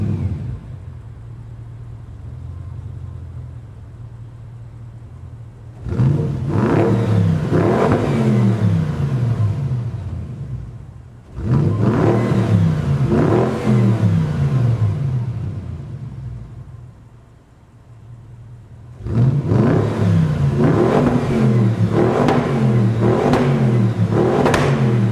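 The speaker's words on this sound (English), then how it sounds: "let me take you around back so you can take a listen to the exhaust." A Bentley Continental V8 S, the previous-generation model, is heard from behind as its exhaust rumbles at idle and then swells in three loud, sustained revs with brief drops back to idle between them.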